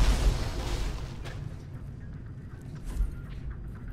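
A weapon fires with a heavy explosion in the shooter game Alien Rage, during a combat-mech breakout mission: a loud booming blast that rolls into a long, decaying low rumble.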